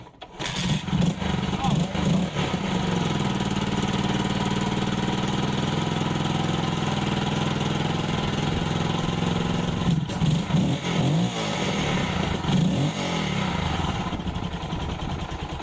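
An Armstrong MT500 motorcycle with a rebuilt Dellorto PHF34 carburettor starts from cold on half choke, then idles and revs steadily and loudly, close by, with a brief stumble partway through.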